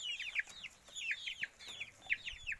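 Chickens on a village backyard farm give repeated clucks in quick bursts of short notes, three rhythmic groups close to the mic, with no talking.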